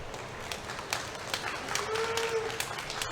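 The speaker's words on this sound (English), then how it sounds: "Let's give these young people a round of applause." Applause from the audience at a county junior fair beef breeding show: a steady, fairly close wash of many hands clapping that runs throughout, with sharper individual claps standing out and no talk over it.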